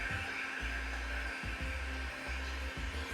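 A heat gun blows a steady stream of hot air over a decal on a BMW F30 during a body kit install, its close, even whoosh pulsing slightly as it moves.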